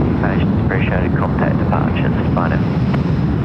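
A Cathay Pacific airliner takes off at Sydney Airport, its steady jet roar running throughout beneath a person talking.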